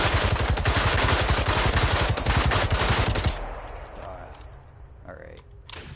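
Rapid, loud automatic gunfire from the video game Generation Zero rattles in a dense stream for about three seconds, then cuts off, leaving quieter game ambience with a few scattered clicks.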